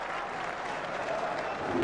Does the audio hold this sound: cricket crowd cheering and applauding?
yes